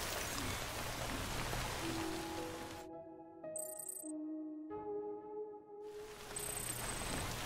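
Steady rain patters in Death Stranding, broad hiss that drops out midway as tonal electronic chimes and beeps ring, then the downpour returns.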